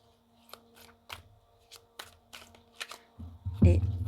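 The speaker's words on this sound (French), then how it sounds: "Je vais vous le mélanger parce que je sais que vous aimez bien savoir si ça glisse bien, si ça s'étale bien." A tarot deck being shuffled by hand, soft quick riffles and card slides in short bursts, close and quiet, ending in a louder handling rustle.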